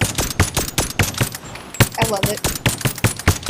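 Stapler pistol firing in the VR video game Bonelab, a rapid series of sharp, punchy shots in an uneven rhythm, close and loud, with a person briefly speaking over them.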